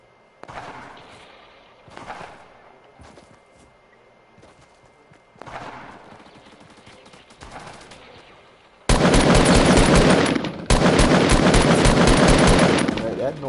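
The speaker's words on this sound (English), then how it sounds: "He's shooting at you." Video game gunfire starts as scattered quieter clatter and shots, then turns into loud, sustained bursts of rapid automatic fire near the end, with a voice talking in the background.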